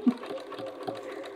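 A short stretch of soft, rhythmic sewing machine stitching on bag handles, fairly quiet and close, with no speech.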